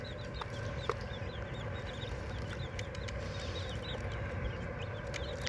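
A bantam hen and her small chicks in a little cage, with soft repeated clucking and high chick peeps scattered through a steady low background, fairly close and unobscured by talk.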